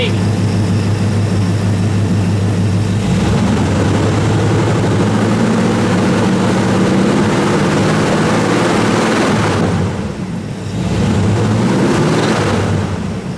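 A Pontiac Bonneville's engine runs steadily with a low drone and a cooling fan moving air, continuous and fairly loud close by, with a brief dip partway through.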